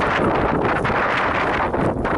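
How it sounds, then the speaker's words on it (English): Steady wind buffeting a microphone high on the Wonderland Trail on Mount Rainier, a constant broadband roar with gusty rustle throughout and no voices. "It's a little windy up here."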